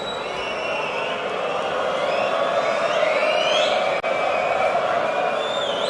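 A darts tournament crowd at the Dutch Darts Masters roars continuously in a large arena, loud and sustained with whistles and shouts rising over the din.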